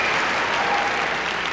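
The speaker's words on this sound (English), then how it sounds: "the crowd goes crazy for that move, the front lever" Arena audience at a 1989 gymnastics meet roaring and applauding a front lever on still rings, a dense, steady wash of cheering and clapping with no talk over it.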